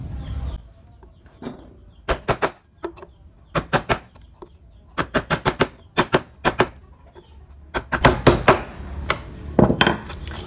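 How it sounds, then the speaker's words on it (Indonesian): Wood being carved with a mallet driving a gouge chisel, sharp close knocks arriving in quick bursts of three to five taps separated by short pauses, loud and rhythmic with no talking. "Selanjutnya yang di bagian sebelah sini kita rapikan menggunakan pahat kol."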